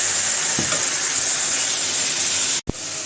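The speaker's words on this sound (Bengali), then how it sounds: "এখন আস্তে আস্তে ভাজি করবো" Vegetables fry in a pan with a steady, close sizzling hiss that briefly cuts out near the end before picking up again.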